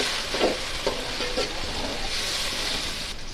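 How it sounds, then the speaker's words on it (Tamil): Ginger and garlic sauté in hot oil for a chicken gravy, giving a steady close sizzle with a few soft stirring knocks in the first second or two. "இப்போ இஞ்சி பூண்டு நல்லா எண்ணெய் திறந்து வைக்கணும். அந்தளவுக்கு வதக்கிக்கோங்க."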